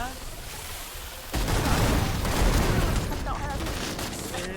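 Dense gunfire bursts in the Free Fire battle-royale game, a steady loud clatter of shots starting abruptly partway through and continuing under excited talk.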